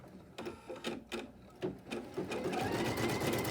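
A sewing machine stitches through a quilt block with batting for an orange peel center block, running in short bursts that build into a steady continuous whir toward the end.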